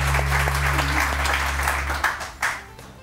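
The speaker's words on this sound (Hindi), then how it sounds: "बहुत सारी तालियां" A studio audience at a Pakistani morning TV show applauds loudly, a dense burst of clapping that thins out into a few scattered claps near the end, with a low hum underneath for the first part.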